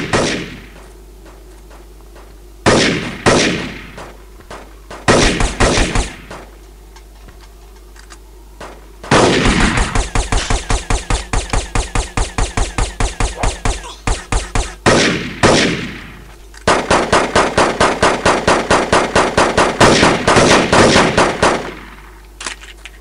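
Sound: gunfire in video game Devastation

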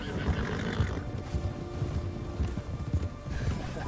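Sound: horses galloping in a video game

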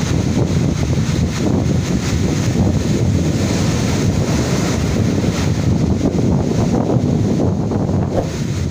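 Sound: strong wind by the rough sea

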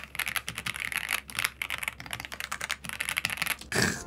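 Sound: typing on F87 Pro Dokgeomi keyboard

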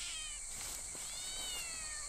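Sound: cat meowing in the video game Shadow Corridor

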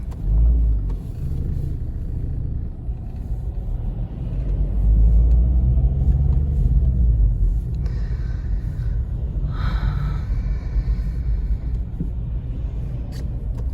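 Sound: traffic jam with a truck turning around

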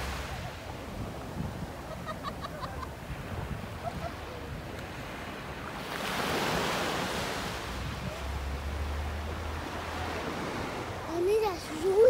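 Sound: ocean waves crashing, spray

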